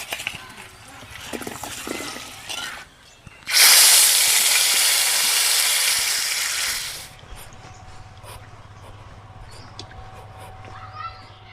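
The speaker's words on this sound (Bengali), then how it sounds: "এই মেটে আলুগুলোকে ভেজে নেব" Pieces of mete alu yam dropped into hot oil burst into a loud, close hissing sizzle lasting a few seconds before fading to quieter bubbling, with faint background noises around it.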